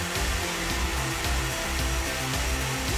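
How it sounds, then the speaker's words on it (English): A vacuum cleaner runs steadily while cleaning the cowl area of a car during a front-end restoration, giving a loud, continuous broadband whoosh with no pauses. "I then vacuum and clean the cowl."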